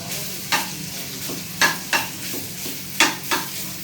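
Minced meat sizzles steadily in a hot pan while a utensil scrapes and stirs it in several quick, scattered strokes, close up.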